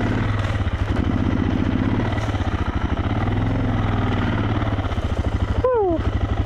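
A big motorcycle labors along a narrow, loose single-track trail at Gold Camp, its engine thumping in a steady loud pulse close by, with wind buffeting throughout.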